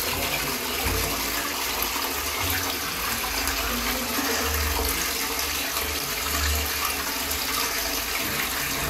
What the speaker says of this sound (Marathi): पाणी फ्लॅश करा सर कंटिन्यू फ्लॅश करा दोन तीन वेळेस